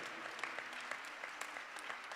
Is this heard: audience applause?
yes